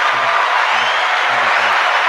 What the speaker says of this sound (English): I got to figure out what button's the applause button on this thing I use